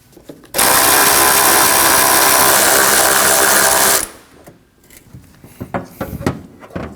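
A power tool with a 13 mm socket spins out hood hinge bolts on a 2015-2022 Chevrolet Colorado, a loud close whirring burst of about three and a half seconds followed by metallic clinks and handling clatter.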